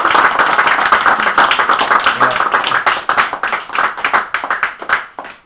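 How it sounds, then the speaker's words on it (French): Audience applause after a French-language speech, close and loud, with distinct individual claps and uneven bursts that gradually thin and fade out in the final moments. "je vous dis aussi, en vous priant, de l'applaudir très très très fortement"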